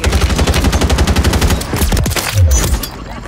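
Rapid automatic gunfire from a Warzone 3 ray gun in a multiplayer match, a dense string of loud shots lasting a few seconds with no voices over it.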